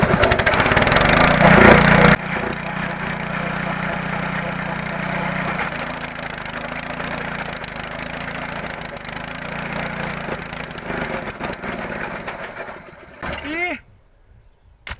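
Homemade branch chipper engine being started and running loudly in a steady drone, then cutting out into near silence at the end, with someone talking over it.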